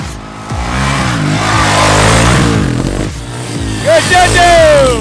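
An engine revs and climbs in pitch as a rider opens the throttle on a ride, with excited shouting and cheering over the engine noise.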